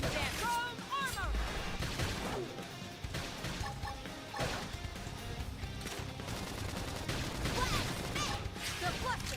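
Gunfire in the game Xenoblade Chronicles X crackles in rapid bursts and repeated shots, mixed with impacts and game effects and voices talking over the combat.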